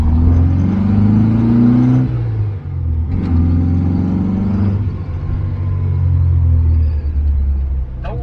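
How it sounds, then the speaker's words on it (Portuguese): A car engine fitted with dual carburetors revs up loudly and repeatedly, deep rumbling swells rising and falling over several throttle blips, close and alone. "não só o som na marcha lenta muda, mas principalmente quando você começa a acelerar"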